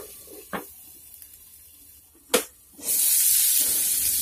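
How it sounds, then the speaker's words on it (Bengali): Cauliflower and egg curry frying in a covered pan over a low flame gives a steady soft hiss, broken by two sharp clatters and a louder burst of sizzle near the end, with no talking. "এইগুলিকে ভালোভাবে নেড়ে চেড়ে মিশিয়ে নিয়ে লো ফ্লেমে ঢাকনা দিয়ে ফ্রাই করে নেব"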